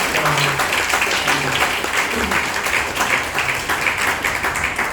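At an USTEAMS Final Sprint coaching seminar, an audience claps continuously for a couple being honoured, a loud, dense, even patter lasting the whole stretch, with faint voices mixed underneath.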